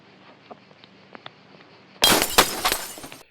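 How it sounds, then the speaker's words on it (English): Glass is thrown and shatters as a film sound effect: after quiet ticking, a sudden loud crash bursts into a spray of tinkling shards that fades over about a second. "someone throws a glass at one point, and the glass is like really like."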